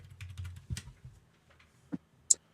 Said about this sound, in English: hear you typing away over there